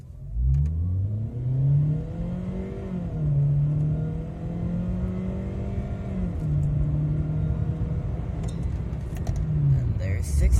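A car fitted with a new aftermarket exhaust pulls hard through a 0 to 60 run, the engine note climbing through two upshifts in rising, droning sweeps, heard from inside the cabin with a voice talking over it.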